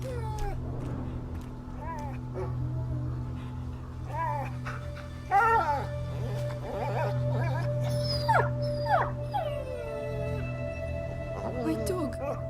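A dog howls and whimpers in the video game A Plague Tale: Innocence, rising and falling cries repeated over about twelve seconds above a steady low drone, with quieter yelps in between.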